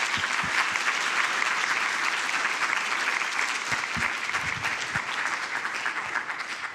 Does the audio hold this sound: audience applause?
yes